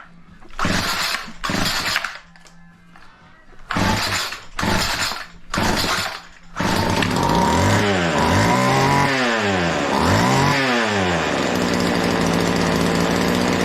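A Homelite New Milford chainsaw engine coughs through several short, loud bursts with pauses between them, then catches and runs continuously, its pitch rising and falling before it holds a steady idle close by.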